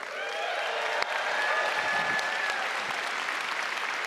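Steady, dense audience applause fills a large hall at the Adobe MAX keynote, many hands clapping at once and holding an even level throughout, with no voices over it.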